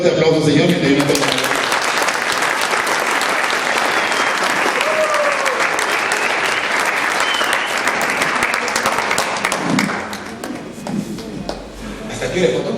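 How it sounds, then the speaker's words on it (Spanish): Strong, sustained applause from a church congregation at a revival service, dense and loud throughout, with shouts and voices mixed in before it thins out toward the end. "Dame un fuerte aplauso"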